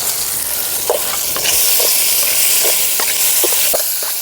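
Chicken pieces fry in oil with onion and tomato in a village kitchen, giving a loud continuous sizzle with occasional stirring scrapes and knocks.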